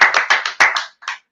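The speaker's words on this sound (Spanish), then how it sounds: "Un aplauso por los 15K." A short, ragged burst of about seven close hand claps from a small group during a Spanish-language freestyle live stream, with no talking.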